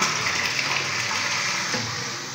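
Water gushes steadily into a water tank, a close, loud, continuous rushing flow with no break throughout.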